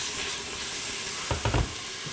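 Onion frying in olive oil in a pressure cooker for a Persian aubergine and lentil stew, a steady close sizzle broken by a brief burst of stirring and scraping midway, with no voices.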